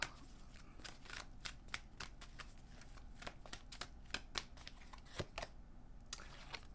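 Tarot cards are shuffled and drawn in a quiet room, a series of crisp flicks, slaps and riffles at close range, soft and irregular, with no voice over them.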